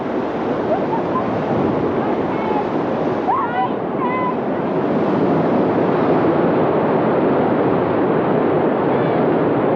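Whitewater rapids on the Stanislaus River, a dense, steady roar of rushing water that stays loud and unbroken, with faint higher tones briefly surfacing near the middle.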